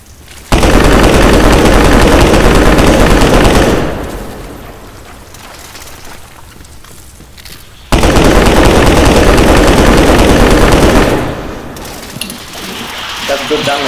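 Rapid automatic gunfire from shooting an enemy in the Stay Out video game during a Spider Khan cave raid, two loud sustained bursts of about three seconds each separated by a quieter stretch, with players talking.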